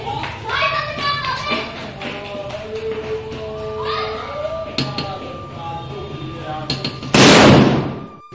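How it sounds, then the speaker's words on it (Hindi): A sharp, very loud firecracker blast near the end, a burst of broadband noise after several seconds of children chattering and shouting nearby. "कैसा लगा भाई बम का धमाका?"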